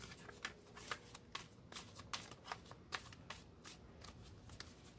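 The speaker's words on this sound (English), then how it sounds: "Usually, shuffling takes quite a while." Playing cards are shuffled close up, a series of crisp riffling bursts and soft slaps repeating in a loose, uneven rhythm.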